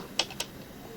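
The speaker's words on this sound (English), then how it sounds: "typing, right?" Two quick, crisp keystrokes on a computer keyboard click about a fifth of a second apart, with quiet room noise around them.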